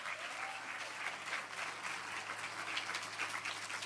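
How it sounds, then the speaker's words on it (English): At a children's book awards ceremony in Ireland, the audience applauds the winners, a full continuous crowd clap that stays fairly soft and distant throughout with a low steady hum beneath. "give them a big round of applause and welcome them to the stage."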